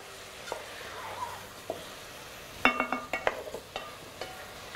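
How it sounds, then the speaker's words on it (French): Onion and chicken simmer together in a pot for a chicken curry with palm hearts, a soft steady sizzle broken by a cluster of light clinks and stirring knocks midway, with no talking. "On va laisser mijoter une petite minute ensemble. Que l'oignon fonde un petit peu."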